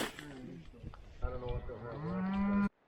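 Cattle on a farm moo in a long, loud, drawn-out call that rises and holds steady before cutting off abruptly, close and clear.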